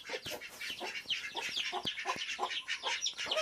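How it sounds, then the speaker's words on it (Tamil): A hen clucks over and over in short, agitated bursts, close and fairly loud, on a farm where chicks have gone missing. No one speaks. "இந்நேரம் வரைக்கும் கோழி கத்திக்கிட்டே இருந்துச்சு."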